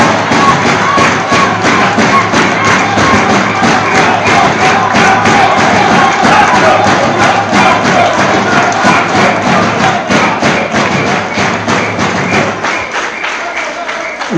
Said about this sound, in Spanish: quiero pedir un fuerte aplauso por los que han salido electos congresistas el día de hoy